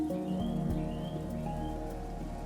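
Steady rain falls across the game world of the city-building title Endzone - A World Apart, a soft continuous patter of drops with faint bird chirps mixed in and no talking.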